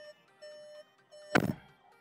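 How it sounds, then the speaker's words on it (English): A single solid thud of a 2021 Skoda Superb L&K car door shutting, short and close, after a quiet stretch with faint tonal beeping in the background. "Now, let me just close the door and show you."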